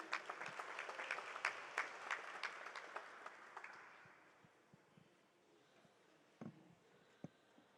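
Applause at a school association launch ceremony, a dense round of clapping that swells for about four seconds, then thins to scattered claps with a few late, louder single claps.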